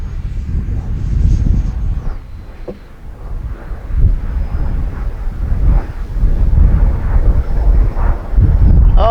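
Strong gusty wind buffeting the microphone at an RC flying field while a Freewing Vulcan 6S model jet flies, heavy low rumble rising and falling throughout, with someone shouting briefly.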